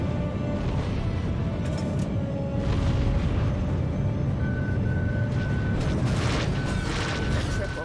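Enemy missile strike explosions in the space strategy game T2S, a heavy sustained rumble with booming impacts and bursts of crackle, under intermittent beeping alert tones.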